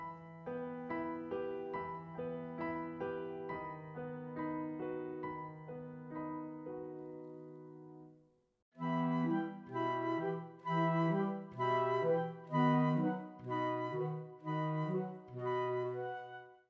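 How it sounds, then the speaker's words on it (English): A romantic orchestral arrangement for flute and harp plays gentle melodic phrases over sustained harmonies, then pauses briefly before a fuller second passage with rising, repeated notes. "And with the flute, the harp, the arrangement and everything, it will more or less look and sound like this."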